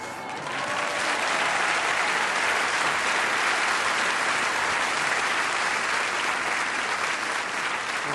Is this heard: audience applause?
yes